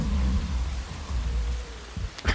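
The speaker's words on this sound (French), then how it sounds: "C'est de la fausse pluie" Artificial rain on a film set makes a steady, fairly loud hiss of falling water with no speech, and a sharp rush of noise comes at the very end.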